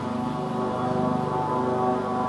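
A military helicopter flies overhead, giving a steady, fairly loud drone with a constant engine and rotor hum that holds through the whole stretch with no voices.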